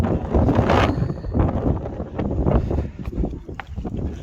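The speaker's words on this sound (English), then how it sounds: "It's pretty windy out here." Wind gusts buffet the microphone on a mountain trail, a rough, loud rushing that swells and drops in uneven bursts.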